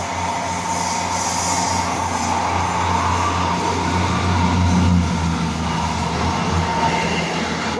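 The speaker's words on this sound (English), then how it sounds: "next up we've got another 158 coming from Exmouth to Paignton" A GWR Class 158 diesel train passing at Dawlish, Devon, on the Exmouth to Paignton run: a steady rumbling engine drone and rolling wheel noise that swells toward the middle and holds close throughout.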